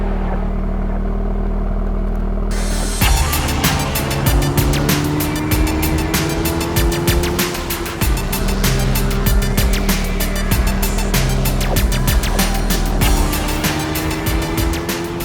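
A Toyota GR86 with a manual gearbox drives under steady, loud engine drone from inside the cabin, revs climbing and dropping through gear changes, with road and wind roar throughout.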